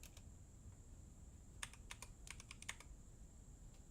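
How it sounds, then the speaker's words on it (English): Someone types on a computer keyboard in a quick scattered burst of key clicks, faint and close, over a quiet room with a steady high electronic whine and low background hum. "Am I typing it in?"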